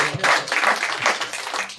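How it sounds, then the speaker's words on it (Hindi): An audience at a Hindi poetry recital breaks into applause, a brief burst of many hands clapping in a dense, lively patter that rises and falls across under two seconds. "आप लोगों की तालियां चाहता हूँ।"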